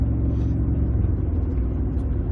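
A Ford F-150 pickup with a 6R75/6R80 six-speed automatic accelerates hard in a high gear, giving a steady, loud engine drone and road rumble that holds without a downshift.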